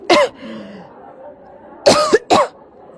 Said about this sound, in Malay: Batuklah pula.